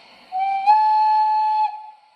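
One long, shrill whistle from a small O gauge European toy steam locomotive, close by, holding steady for over a second before trailing off.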